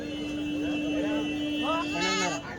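Goats bleat loudly and close by at a weekly goat market in Kadiri, with several wavering calls over steady crowd noise and people talking.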